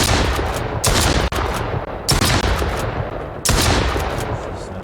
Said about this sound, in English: Gave him one gunshot.